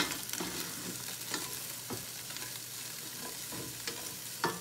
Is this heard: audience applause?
no